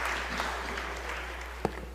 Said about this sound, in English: Can we give him a round of applause one more time?